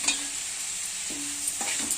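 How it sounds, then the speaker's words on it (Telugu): Onion pieces frying in a pan with coarse salt for an egg curry, a close, continuous sizzle with a few brief scrapes of a spatula; no voices. "ఇదిగోండి ఉల్లిపాయ ముక్కలు అయితే వేగుతున్నాయి"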